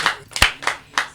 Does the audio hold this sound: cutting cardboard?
no